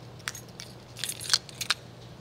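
A ring of car keys jangles in a few short metallic bursts, several keys clinking together on the keyring in sparse, close shakes over a faint steady hum.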